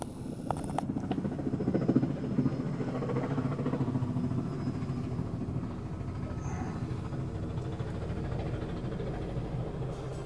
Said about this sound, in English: Helicopter taking off.